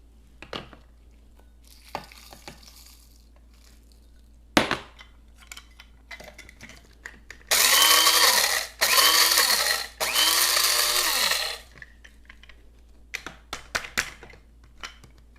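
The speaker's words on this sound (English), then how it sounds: "you can grind them in an electric grinder" An electric grinder grinds dried chilies in short bursts, about three loud whirring runs of a second or so each, separated by brief pauses, with scattered taps and clicks before and after.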